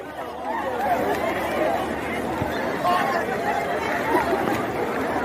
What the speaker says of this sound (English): Oh boy, see crowd.